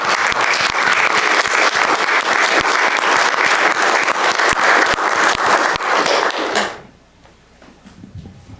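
Steady applause from a crowd at a county board of supervisors meeting, dense and sustained for several seconds, then cutting off abruptly into quiet room tone.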